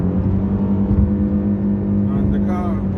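A Lexus GS 450h hybrid with CVT gearbox accelerates to overtake a truck on the motorway, a steady loud cabin drone of engine and road roar rising slightly, with a voice talking faintly in the car.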